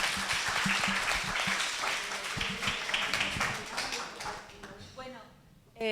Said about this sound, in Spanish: Nos merecemos un aplauso, Susi, muy grande.